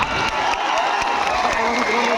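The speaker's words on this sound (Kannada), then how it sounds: "ಹಳ್ಳಿಮಟ್ಟಿ ತಂಡಕ್ಕೆ ಒಂದು ಸಲ ಕೈ ಬಿಚ್ಚಿ ಜೋರಾದ ಚಪ್ಪಾಳೆ ಬರಬೇಕು" A crowd at a rural kabaddi tournament claps and cheers loudly for the Hallimatti team in a steady, continuous roar, with an announcer's voice carrying over the applause.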